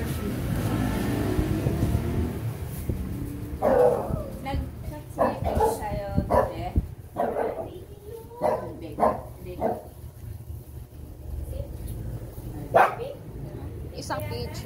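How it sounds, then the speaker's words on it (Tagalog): A dog barks in a series of sharp, irregular bursts at moderate distance in a household setting, with someone talking between and over the barks and faint background noise. "Ang ingay naman ng aso."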